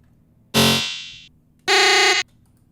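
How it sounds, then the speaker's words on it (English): Two loud, harsh electronic alarm buzzes, the first fading out, the second steady and cut off abruptly, separated by a brief gap. "So alarms."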